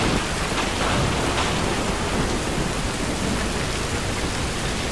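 Steady, dense rain pours in the video game Call of Duty MW2, a loud continuous hiss with faint rumbling beneath it and no voices.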